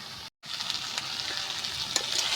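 Potatoes, pointed gourd and spices sautéing in oil in a pan give a steady, close sizzle with soft frying crackle and a few faint stirring clicks, broken by a brief dropout near the start.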